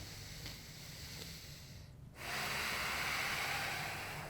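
A yoga instructor's breath: a soft, airy draw of air, a brief hush, then a longer and louder breathy exhale, close to the mic with no talking.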